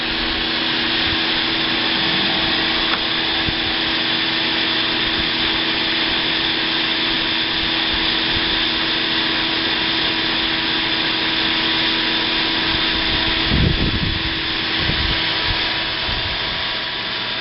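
A blower blowing the husks off Kona coffee beans gives a loud, steady rushing roar that runs without a break, with a brief rumbling bump near the end, close up and with no talking.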